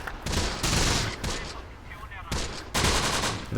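Rapid bursts of gunfire crackle from the World War II strategy game Close Combat: The Bloody First, with dense automatic volleys coming in loud waves and overlapping one another, and a short lull in the middle.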